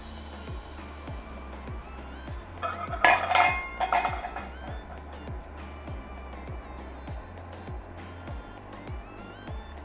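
Rice being stirred into water in a pot for Haitian rice with djon djon mushrooms, giving a steady rhythm of soft scraping strokes with a burst of clinking utensil-on-pot contact midway, fairly close.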